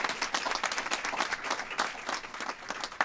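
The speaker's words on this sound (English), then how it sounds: "give a big round of applause for your leader and our friend, Admiral Brett Giroir" Audience applause for an admiral at a government event for health service workers, a steady, fairly close patter of many hands clapping with no talking over it.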